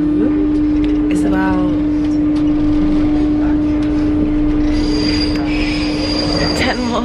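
A train riding between stops in Paris gives a loud, steady rumble under a sustained squealing wheel tone. Sharper metallic screeches come near the end, and faint voices murmur in the carriage.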